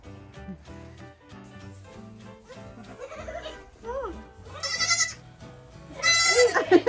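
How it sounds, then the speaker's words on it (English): A goat bleating on a farm, with several short wavering cries that grow louder toward the end, mixed with nearby voices and a baby's babble. "The goat."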